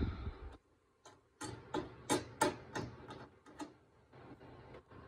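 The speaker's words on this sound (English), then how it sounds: "Now it's time to put the wing nuts on." Quiet, irregular clicks and small metallic ticks from hand-tightening wing nuts on a TV sound bar mount, a short burst of rapid ticking in the middle, with no voices.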